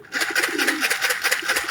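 Soft, low cooing from a homing racing pigeon perched outdoors in the heat, a few brief murmured coos set against a constant bright hiss of ambient noise.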